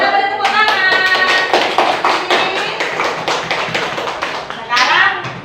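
A classroom of children claps hands together in a loud, close burst of rhythmic, fairly even claps, with young voices mixed in and a sharp rise in clapping near the end.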